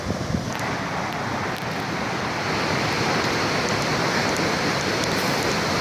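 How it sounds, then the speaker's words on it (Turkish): Rushing water roars in a dense, steady wash close beside the falling water of Düden Waterfall in Turkey, unbroken throughout with no voices. "Şimdi Güven Şelalesi'nin döküldüğü yerin tam yan tarafındayız."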